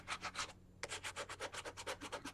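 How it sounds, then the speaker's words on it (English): Bark being sanded to remove a thick coating for a journal embellishment, heard as quick rhythmic rubbing strokes, close and quiet, with a brief pause before the strokes resume. "so I'm sanding this entire triple thick off of here."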